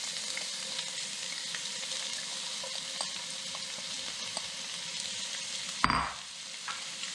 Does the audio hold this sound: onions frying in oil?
yes